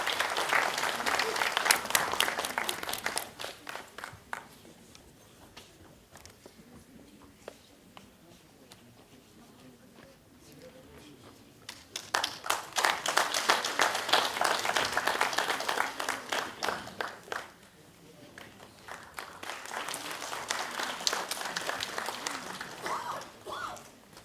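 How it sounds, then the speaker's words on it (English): Convention audience at a valedictory function claps for prize winners in two long bursts of many hands, the first fading into a quieter stretch with a hall-amplified voice before the applause swells again and continues. "Big applause."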